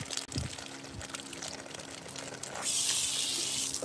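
Water poured for a drink near a sink, loud and close: a steady gushing stream that grows brighter and fuller partway through, with no talking.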